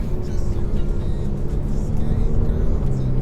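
Ferrari F8 Tributo fitted with a Ryft exhaust, driving, its low engine drone steady and fairly loud throughout with road noise, no distinct revving.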